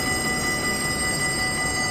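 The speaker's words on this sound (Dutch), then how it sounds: "Oh god, er komt nog een trein aan." A train arriving in the video game Train Simulator 2017 at Krammendijk, heard as a loud, steady rolling rumble layered with sustained whining tones, continuous throughout with no voices.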